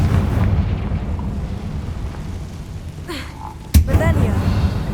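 A Confringo spell blast in Hogwarts Legacy, a sharp burst landing near the end over a dense rumbling game soundscape, followed by crackling debris; a voice speaks briefly.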